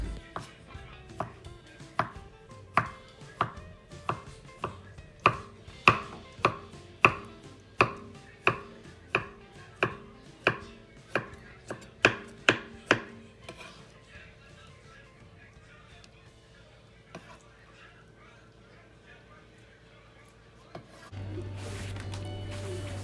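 A knife chops aloe vera into small pieces on a cutting board, giving about twenty crisp, evenly spaced taps up close over roughly twelve seconds, then a few softer scattered knocks and a low hum near the end.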